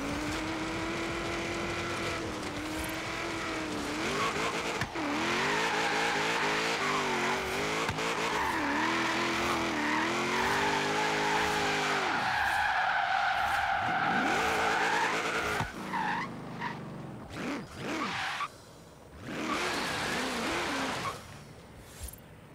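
A video game car pulling a wheelie with its engine droning and sweeping up and down in pitch, with tires squealing and skidding, and sound cutting in and out toward the end.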